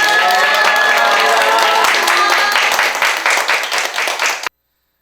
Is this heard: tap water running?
no